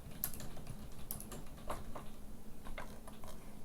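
Quick, light keystrokes clatter on a computer keyboard as a title is typed, soft close taps in an uneven run over a faint room hum.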